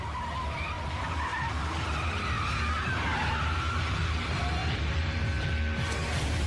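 A car speeding away in a dubbed action movie, its tires skidding and squealing over a continuous engine roar, loud and sustained with no talk.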